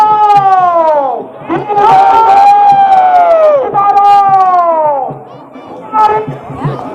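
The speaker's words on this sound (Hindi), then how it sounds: "इसके लिए आप देखिए कितनी जबरदस्त भीड़ है, जबरदस्त भीड़" Large crowd at a Kamal Vyuh fair in Badab village, Agastyamuni, Rudraprayag, with loud overlapping chatter and voices close by, a few calls rising above the steady murmur.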